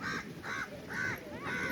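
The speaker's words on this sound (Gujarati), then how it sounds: "કાગડો બોલે છે" A crow caws four times in an even rhythm, each harsh call clear and fairly close, with quiet background noise between the calls.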